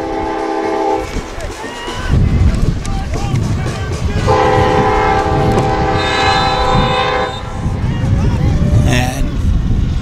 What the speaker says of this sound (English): Another train coming by